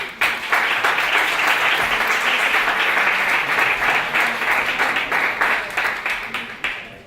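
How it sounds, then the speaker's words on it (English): Audience applause at a startup competition event fills the room, loud and sustained for several seconds, then thins out toward the end. "Please give them a warm round of applause."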